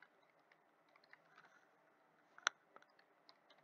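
Keystrokes on a computer keyboard tap out in sparse, faint clicks against a quiet room, with one sharper key strike standing out midway.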